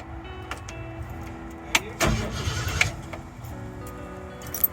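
A 1967 Ford Galaxie 500 engine cranks without oil, a steady low mechanical churn with a sharper, louder burst partway through, close and alone.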